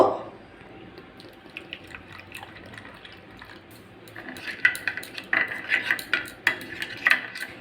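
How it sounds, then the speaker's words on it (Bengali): Kashmiri chilli powder stirred with a little water in a small bowl with a spoon, soft clinks and scraping that grow louder and busier toward the end, no talking. "কাশ্মীরি লঙ্কাগুলো হাফ চামচ কালারের জন্যে অল্প জল দিয়ে গুলে নেব"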